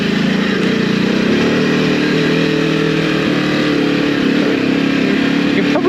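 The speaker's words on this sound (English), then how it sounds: "You can probably hear it revs out quite nicely, more than you think a V-twin would." A Ducati Desert X V-twin motorcycle engine drones loud and close while riding, holding a steady, strong buzzing tone throughout with no talking.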